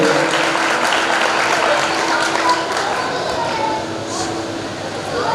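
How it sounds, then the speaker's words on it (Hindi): Audience applause at a farewell speech for a Jain renunciant before initiation: a steady, dense wash of many hands clapping that holds at full strength throughout, dipping only slightly near the end. "जोरदार तालियां आपके खुद के लिए"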